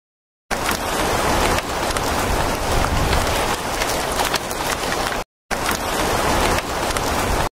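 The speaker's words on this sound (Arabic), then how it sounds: "الامطار ما هي راضيه توقف ولا شيء" Steady rain pouring in the Avatar World video game, a loud dense wash that cuts out briefly and resumes, with no talking.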